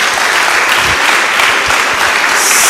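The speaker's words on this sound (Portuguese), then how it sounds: "Dê uma salva de palmas a Jesus" Church congregation applauding, a dense, loud, continuous wash of clapping from many hands filling the whole moment without pause.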